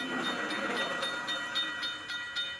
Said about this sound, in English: There's German Transrapid.